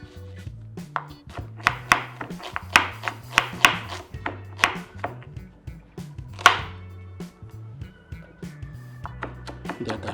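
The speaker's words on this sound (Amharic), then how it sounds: "በቅድሚያ እንግዲህ ሽንኩርቱን እንከትፍና" A knife chops onion on a cutting board for a homemade soup, sounding as a steady run of sharp, close knocks at an uneven quick rhythm over a faint low hum.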